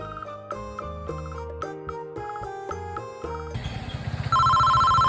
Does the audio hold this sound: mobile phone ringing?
yes